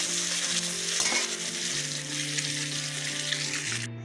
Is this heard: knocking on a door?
no